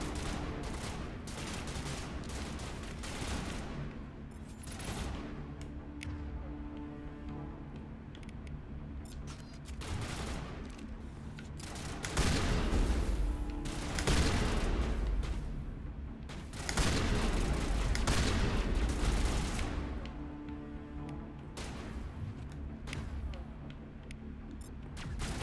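Sustained gunfire rattles through a firefight in the video game Mass Effect as shots are aimed at a rock, with continuous loud bursts and heavier impacts swelling midway.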